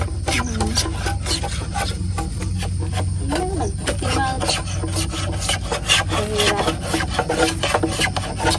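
Wood sanded by hand with sandpaper while building a bamboo and wood nipa hut, a loud, close, continuous rasping scrub in quick back-and-forth strokes, with faint voices now and then.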